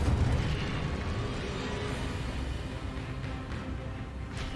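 Incendio fire spell cast in Hogwarts Legacy during hard-mode combat, a dense roaring burst of flame and impact noise sustained throughout, loud and close.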